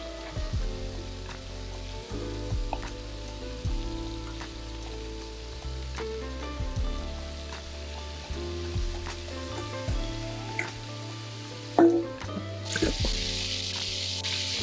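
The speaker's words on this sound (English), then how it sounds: "this is on a high heat. Really want to get a nice sear on that lamb to start with." Butterflied lamb sears over high heat at a camp cooking setup, leftover marinade spooned on top, producing a loud, continuous sizzle with occasional louder spits and pops throughout.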